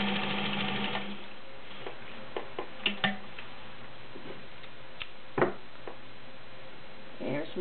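A vintage heavy-duty 1.3 amp White Model 130 sewing machine stitches fabric with a steady mechanical whir and scattered ticks and clacks, close and fairly quiet, while a person talks at times.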